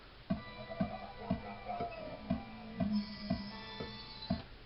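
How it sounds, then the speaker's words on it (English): Steady Pro Tools metronome clicks at an even tempo, about two per second, with sustained musical tones playing softly underneath. "that sound you're hearing is the metronome"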